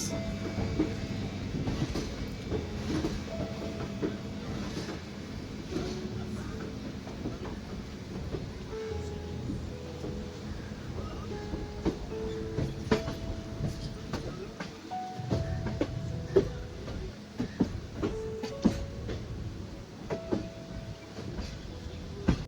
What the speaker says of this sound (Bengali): শিয়ালদা স্টেশনে 7 নম্বর প্ল্যাটফর্ম থেকে ট্রেন মা তারা এক্সপ্রেস